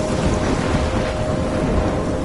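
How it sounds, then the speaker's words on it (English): A thunderstorm in the video game Life is Strange, with dense, steady rain and low rumbling thunder that stay loud and unbroken throughout, with no voices. "I'm trapped in a storm?"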